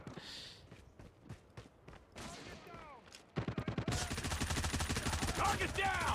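Rapid bursts of automatic gunfire in the video game Call of Duty Mobile crackle and echo, starting sparse then turning into a dense, loud fusillade with overlapping shots.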